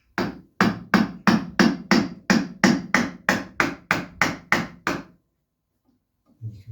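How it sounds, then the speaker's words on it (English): A hammer drives wooden wedges to tighten timber shuttering for a bothy wall, thirteen evenly spaced, loud, solid knocks in a steady rhythm before the strikes stop and it falls quiet. "then I'll just basically hammer them to create the pressure"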